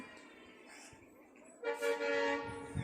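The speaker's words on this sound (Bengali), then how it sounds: "ট্রেন আসছে ট্রেন নাকি মালগাড়ি" A low, steady rumbling builds as a lone locomotive engine approaches, then a loud train horn blares and holds for over a second, sounding fairly close.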